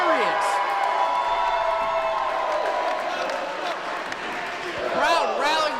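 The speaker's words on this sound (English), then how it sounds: "Crowd rallying behind him as he gets Cesar back up to his feet" A wrestling crowd cheers and roars steadily at a live event, a dense, loud wash of voices with whoops rising near the end, while a commentator talks over it.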